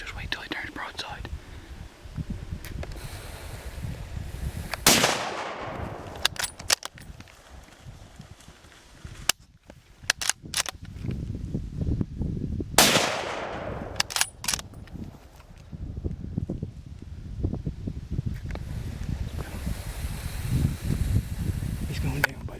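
Rifle shots ring out during a moose hunt, two sharp loud cracks spaced several seconds apart outdoors, with hushed whispering and rustling footsteps around them.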